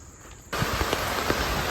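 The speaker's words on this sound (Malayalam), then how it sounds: "ഇവിടെ എത്തിയപ്പോൾ ഗംഭീര മഴ" Heavy rain falling at a hilly riverside film-shooting spot near Thodupuzha, starting abruptly as a dense, steady wash of hiss and patter that stays loud and even after a quiet opening.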